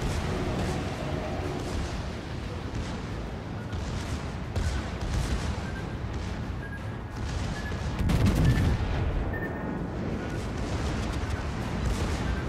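Video game gunfire crackles and booms in dense, overlapping bursts across a constant battlefield din, with distant shots and heavier blasts rising and falling throughout.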